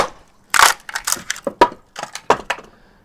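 Wood cracks and splinters in a burst of sharp snaps and crunches, close and fairly loud, settling into a few scattered cracks.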